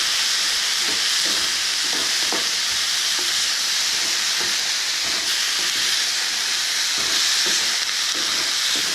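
Broccoli sautéing in a pan, its water fully evaporated, gives a loud, steady, dense sizzle of frying. The crackle runs unbroken throughout with no voices.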